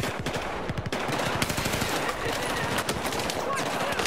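Rapid automatic gunfire from the USAS shotgun in the Battlefield 4 campaign: a dense, loud, continuous burst of shots throughout, with faint talk underneath.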